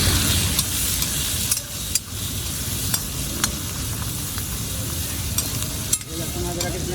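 Garlic ginger paste sizzles steadily in oil in a karahi with browned chicken, a continuous loud frying hiss broken by scraping stirs and a few sharp clicks throughout.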